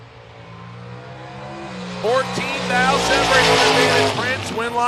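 Drag race launch between a Georgia-based Corvette and a wheelie wagon at a drag strip: engines rumble at idle, then both cars roar loudly and rise in pitch as they accelerate away, with a crowd-like wash over the revving.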